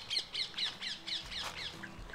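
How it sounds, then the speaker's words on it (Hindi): A peacock calls in the hills near the Muchukunda caves at Dholpur, a series of about six harsh, nasal squawks in a steady rhythm, moderately distant and fairly faint. "इन पहाड़ों पर मोर बहुतायत में पाया जाने वाला एक पक्षी है"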